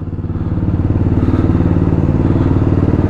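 A motorcycle engine idles and putters loudly up close as the bike is ridden down a slope, a steady pulsing low rumble that holds throughout.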